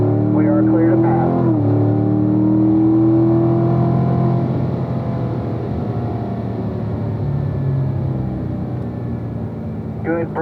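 Car accelerating on a road-course track during a lead-follow driving session, a loud sustained engine note rising in pitch, a brief shift, then steady engine drone throughout, with someone talking over it.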